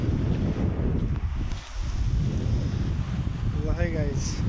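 Wind buffets the microphone at the seashore with a continuous low rumble of sea waves beneath, steady and fairly loud, a faint whistle-like tone near the end.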